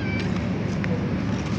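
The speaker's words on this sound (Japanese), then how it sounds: "猫が来てんだ、にゃーにゃー。" A cat meowing repeatedly at night outside a home in Cebu while two dogs wait nearby, thin cries over steady broadband background noise and someone talking.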